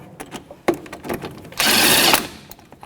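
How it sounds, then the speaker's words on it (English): A 3/8-inch impact gun runs a single loud rattling burst of roughly half a second while bottoming out wheel hub bolts on a 2006-12 Toyota RAV4, with clicks and clanks of the work around it. "I'm just going to use my 3/8 gun to bottom it out"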